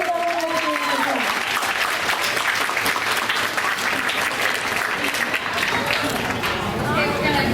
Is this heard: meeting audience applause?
yes